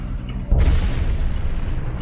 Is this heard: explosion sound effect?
yes